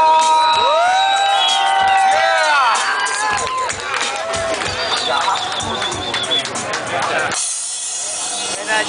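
A large crowd cheers, whoops and shouts loudly after a set at the Bogotrax 2010 music festival, a dense sustained roar with high yells rising over it before cutting to a quieter hush near the end.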